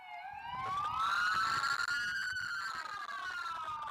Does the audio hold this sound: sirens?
yes